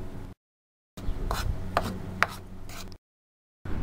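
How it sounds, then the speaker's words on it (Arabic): Flour, starch, salt and sugar stirred together in a bowl with a spoon, giving a few short scraping, rubbing strokes separated by brief silent gaps, close and fairly quiet. "وهنقلب كله مع بعضه كويس"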